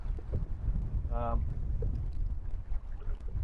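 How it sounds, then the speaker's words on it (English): Heavy wind buffets the microphone with a constant low roar on a canoe near a sandbank, broken by a brief tonal whine, like a motor or call, partway through. "It's bloody windy as windy as hell at the moment, like really windy."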